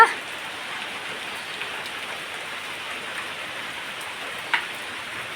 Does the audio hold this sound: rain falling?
yes